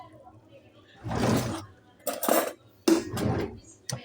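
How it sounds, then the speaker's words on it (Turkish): Noodles, two packets' worth, go into a pot of water, heard as a few distinct clattering knocks of dishes and utensils against a quiet background. "Şimdi şöyle noodle'ımızı koyuyoruz."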